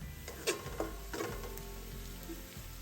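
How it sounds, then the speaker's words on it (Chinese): Shallot slices frying in hot oil for steamed tofu with preserved vegetables, a steady soft sizzle and crackle running throughout with a few louder pops near the start. "在红葱片油炸至微微焦黄后，像视频中这状态"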